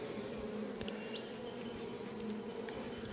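Honey bees buzzing on a hive frame during an inspection, a dense, steady hum of many bees close by with a few individual buzzes darting past, no voices.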